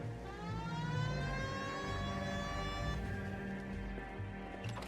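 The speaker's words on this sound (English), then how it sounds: "Hit the siren." A police car siren in the video game L.A. Noire wails, rising and falling through the whole stretch over engine rumble, then cuts off near the end.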